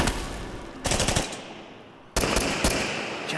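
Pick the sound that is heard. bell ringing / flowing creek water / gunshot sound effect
gunshot sound effect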